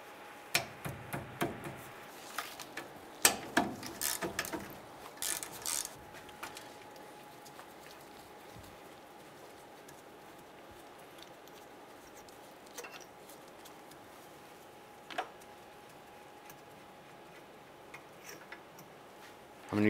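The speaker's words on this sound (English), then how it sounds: "Using a 10 millimeter socket, we're going to remove the two slider pin bolts on your brake caliper." Ratchet with a 10 mm socket working on the brake caliper slider pin bolts of a 2002-2008 Dodge Ram 1500, quick bursts of light clicking early on, then sparse isolated ticks, faint and close.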